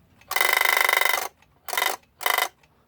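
A mechanical alarm clock with a wobbly centre knob rings its bell loudly and close, one long burst of about a second followed by two short bursts, with brief quiet gaps between.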